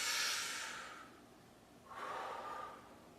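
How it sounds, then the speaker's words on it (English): During a breathing exercise between barbell sets, a person draws two deep, close, airy breaths in succession, each a soft rushing hiss lasting about a second. "And then inhale."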